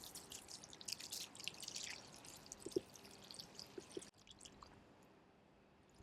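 Water soaks into the tree circle around a newly planted apple tree, heard as faint close trickles, drips and small squishy gurgles that thin out to near silence after a few seconds.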